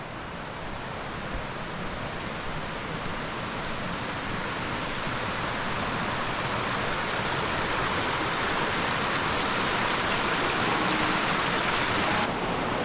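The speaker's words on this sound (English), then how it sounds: "The waterfall is really flowing today." Continuous roaring rush of a waterfall on the Hoh River Trail in Olympic National Park, loud and steady throughout with no pauses or voices.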